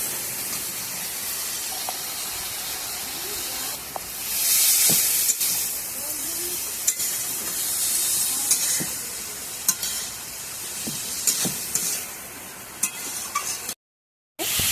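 Elephant foot yam stems being stirred into a spiced curry in a pan, with a steady sizzling hiss and intermittent scraping spoon strokes, close and fairly loud, with no talking.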